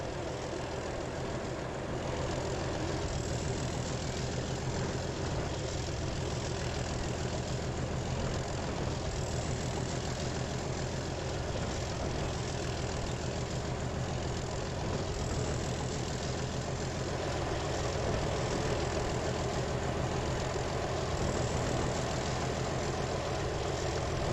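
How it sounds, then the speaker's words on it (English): A vehicle engine in the Transport Fever railway and road simulation game runs as a steady, loud, low drone with a broad rumbling hum that holds without pause for the whole stretch, with no voices over it. "Doesn't have a lot of power though, does it, this engine?"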